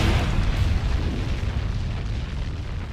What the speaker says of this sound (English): they brought in avalanche guns later on